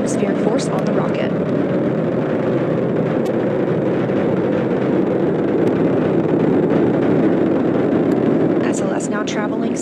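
The SLS rocket roars during the Artemis 1 launch near max Q, a steady, broad, loud rumble that holds unbroken throughout, with someone speaking over it at times.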